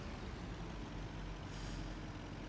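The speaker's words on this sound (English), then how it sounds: "We got 10 trucks running now." Trucks in the Farming Simulator 25 video game run with a constant low engine drone and a brief hiss like an air brake partway through, steady and fairly quiet with no talking.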